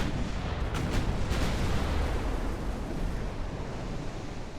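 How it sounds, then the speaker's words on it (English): Torpedoes strike warships in the naval battle game Ultimate Admiral: Dreadnoughts, giving a dense, continuous roar of deep booming blasts and rumbling surf-like wash with a few sharper hits near the start. "That was a lot of torpedoes."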